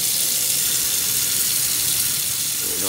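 Hot water runs from a sink tap in a loud, steady, close rush of splashing that continues without a break.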